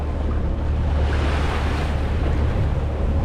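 Ocean water sloshes and rushes around a jetski out at sea in about 120 feet of water, a close, steady wash with low wind rumble on the microphone and no talking.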